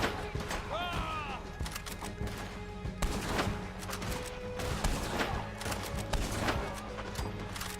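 Machine gun fire in Red Dead Online rattles in rapid, fairly faint bursts across a foggy outdoor scene, mixed with other game sounds and occasional spoken voices.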